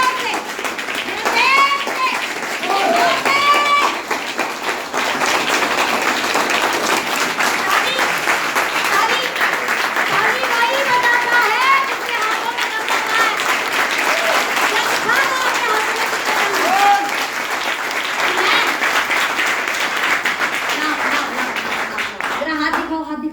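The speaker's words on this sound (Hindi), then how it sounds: "पहले मैं चाहती हूँ कि शानदार ताली बजाओ और नींद से जाग जाओ।" Steady, loud audience clapping runs throughout at a business-plan meeting, with voices and calls rising over it, before stopping near the end.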